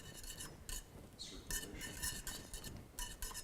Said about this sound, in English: Just a few seconds of whisking.